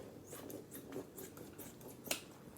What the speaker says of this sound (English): I'm going to cut open more so that you guys can see better.